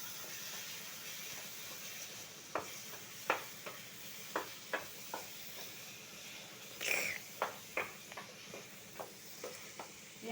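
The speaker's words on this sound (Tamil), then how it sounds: "இப்போ நல்லா இது வதக்கலாம்." Chicken with chicken masala sautéing in a pan in a home kitchen: a steady, soft sizzle with a spatula clicking and scraping against the pan at irregular intervals.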